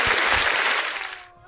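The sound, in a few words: applause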